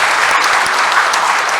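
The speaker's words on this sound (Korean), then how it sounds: "우리 어린이들에게 아주 축하의 박수를 보내도록 합시다." At a Korean Catholic Mass on the third Sunday of Advent, the congregation applauds children taking the altar server pledge. The clapping is a loud, steady, dense wash of many hands that continues throughout.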